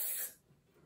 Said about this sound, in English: So I'm gonna spray it into my hand.